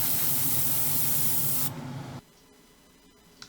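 High-pressure airbrush spraying paint onto the interior of a Hasegawa Lancia 037 Rally model kit, a loud continuous hiss that cuts off partway, leaving a fainter hiss that then drops to near silence with a small click at the end.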